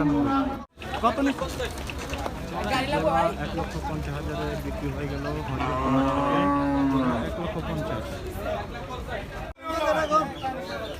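Cows moo repeatedly at a busy cattle market where Qurbani cattle are being sold, long lowing calls rising over crowd chatter and people talking nearby.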